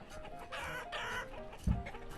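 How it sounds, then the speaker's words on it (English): Chickens in the farming video game Banished cluck and cackle in a busy, overlapping chatter, with a louder low burst near the end, all against soft ambient game sound. "those chickens are so annoying. Sounds like they're laughing all the time"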